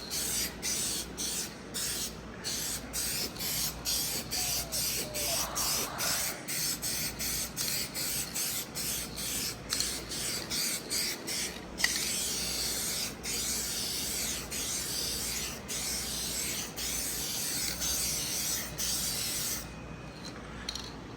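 A rattle can sprays base coat onto a 1988 Mazda RX7, making a close, continuous hiss broken by short pauses and repeated bursts as the nozzle is pressed again and again.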